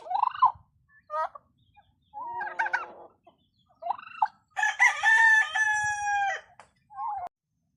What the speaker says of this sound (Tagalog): ito talagang pabo, ang lakas mambuli.